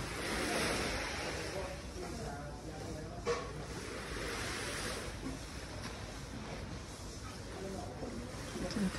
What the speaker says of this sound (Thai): ดูทะเลยามเช้าค่ะทุกคน